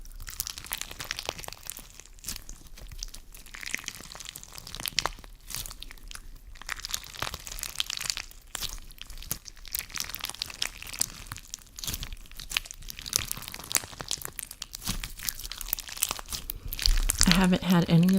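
Leafy crunch bomb slime filled with beads crunched and squeezed by hand, producing steady close crackling and crinkling under a person talking throughout.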